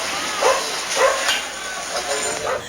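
A dog being struck with a baseball bat yelps in several short, high cries about half a second apart, fairly close and under a constant background hiss.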